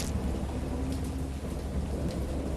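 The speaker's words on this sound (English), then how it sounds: "I have indistinct recollections of a great storm sometime after I reached the boat" Steady heavy rain in the Dagon video game, a dense continuous downpour with low rumbling thunder underneath and no talk.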